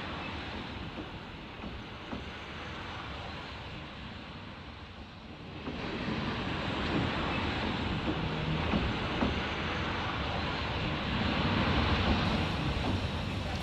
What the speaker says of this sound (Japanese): ホームにはさまざまな支線の列車が乗り入れます